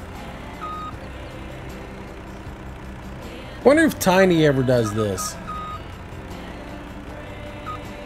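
A truck in Farming Simulator 17 on the Pleasant Valley multiplayer map gives faint, evenly spaced reversing beeps over a steady engine drone, with someone talking briefly in the middle.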